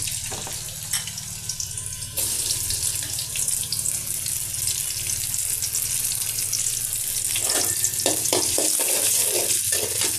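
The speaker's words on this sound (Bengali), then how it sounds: "তেলটা গরম হতে হতে দিয়ে দেব পেঁয়াজের কুচি।" Chopped onion dropped into hot soybean oil, so a steady sizzle jumps louder partway through and continues as a dense hiss. A few stirring knocks come near the end and there is no talk.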